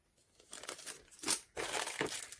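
Plastic beads are handled inside a plastic bag at a city-wide yard sale in Morro Bay, California, giving soft, close crinkling and rustling in a few short bursts.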